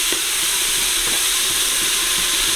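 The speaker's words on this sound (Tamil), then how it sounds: "இதையும் நல்லா வதக்குவோம். தக்காளி நல்லா மையா வதங்கட்டும்." Tomatoes sauté in a pan for a turkey biriyani, giving off a steady, close frying sizzle with a constant hiss and faint stirring.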